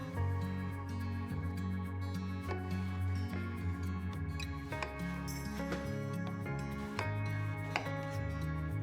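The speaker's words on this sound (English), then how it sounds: "stack a few of them on top of each other and cut it one more time so that we can cut them into thin long pieces" A kitchen knife cuts eggplant into thin long pieces, giving faint, irregular chopping taps on a cutting board beneath steady background music, with no talking.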